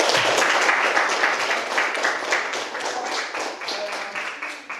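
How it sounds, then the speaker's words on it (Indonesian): Dense, steady clapping from a class of students in a school lesson, continuous and fairly loud throughout, with no talking over it. "Mari kita memberikan tepuk tangan."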